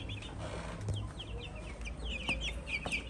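Hybrid chicks peep in a small group nearby, with repeated high thin chirps scattered across a soft, steady background hiss.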